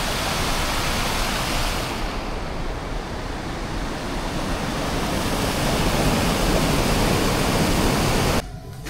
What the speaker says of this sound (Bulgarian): А ето това е река Бутуня.